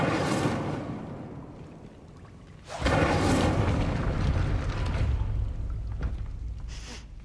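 Incendio fire spell cast in the video game Hogwarts Legacy: a sharp whooshing burst that swells into a loud roaring rumble. The roar carries on for several seconds, with a smaller flare near the end.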